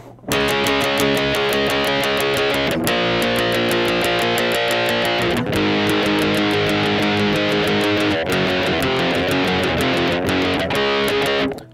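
Electric guitar strums the chords of a song at a brisk, steady tempo, a dense driving rhythm that stays loud and even throughout, no voices.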